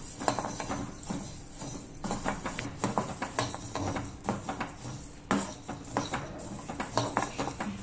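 Coriander seeds dry roasting in a pan with no oil, a steady light rattle and scrape of seeds being stirred against the metal, close and continuous with occasional sharper clinks.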